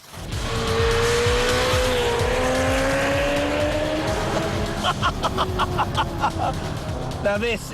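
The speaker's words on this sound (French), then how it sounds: "Conduire une Ferrari." A Ferrari 348 V8 engine roars and climbs in pitch as it accelerates, loud and close, with tires squealing briefly near the end.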